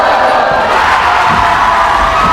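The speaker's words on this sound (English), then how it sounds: "The Colonial crowd's getting very loud." A home crowd at a boys' high school basketball game cheering and shouting loudly, a dense, sustained roar of many voices that fills the whole stretch without letup.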